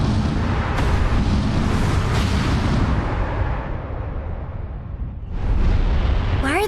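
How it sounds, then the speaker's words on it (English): Gunfire aimed at a ship in the adventure game Broken Age: dense, sustained booming bursts and rumbling blasts fill the whole stretch, easing briefly before another loud volley. "Why are they shooting?"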